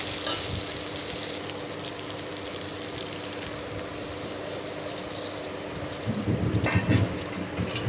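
Potatoes fry in a pan as ground spice-paste water is poured in: a steady, close hiss of sizzling oil swells into a louder bubbling sputter near the end.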